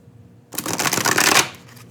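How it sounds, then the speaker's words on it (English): Tarot card deck shuffled in the hands, a dense riffling burst of card flutter lasting about a second, close and fairly loud, then fading to quiet. "I am going to give it a shuffle."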